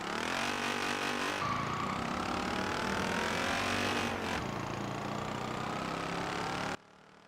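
Peel P50 in Forza Horizon 4 accelerating from a standstill, a thin buzzy engine rising steadily in pitch with one gear change partway, loud and continuous before cutting off abruptly.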